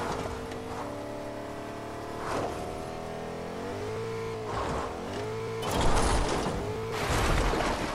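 A car engine in the Fortnite battle royale video game revs and surges with shifting pitch, swelling louder toward the end amid game sound effects, with no talking.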